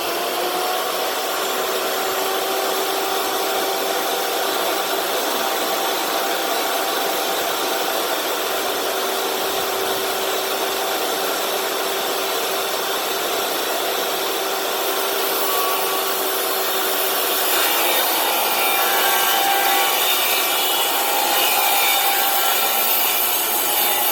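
A 6 foot by 48 inch PVC sheet is fed through a saw guide, giving a long continuous whining, rasping cut that stays loud and steady, growing harsher and brighter toward the end.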